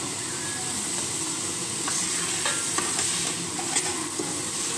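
Soy chunks being stirred into tomato masala frying in a pan for a double beans gravy, a steady close sizzle with scraping spoon strokes, no voices.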